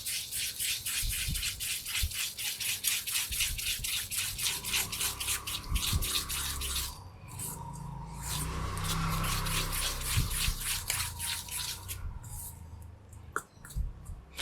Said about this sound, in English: You always start slow because you don't want to over whisk the egg, and you incorporate all the flour on the edge.